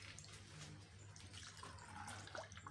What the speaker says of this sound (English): just carefully pour in your water into the balloon with the funnel's help